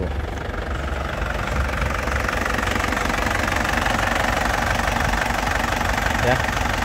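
A black 2010 Isuzu Panther LS Turbo diesel in original condition idles nearby, a steady, loud, rhythmic diesel clatter with a low, even rumble that holds throughout.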